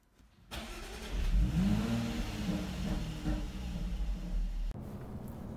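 A car drives along the road, its mid-pitched engine rising as it pulls away and then holding a steady, close hum with a brief dip near the end.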